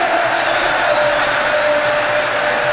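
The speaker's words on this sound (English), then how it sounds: "Well, listen to the crowd." Broadband roar of a football stadium crowd at a 2011 AFC Asian Cup qualifier between Australia and Kuwait, a dense sustained swell of cheering and noise, loud and unbroken throughout with no clear single voices.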